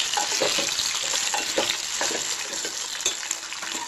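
Raw mango pieces crackle and sizzle loudly in hot oil with roasted fenugreek seeds, mustard seeds and cumin, the frying hiss steady and rapid with spatula stirring strokes, and no voices.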